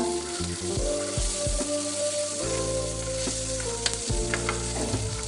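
Greens sizzle steadily in hot oil with tomato, sliced green chili, salt and turmeric while a spatula stirs them, scraping the pan in repeated strokes and clatters throughout.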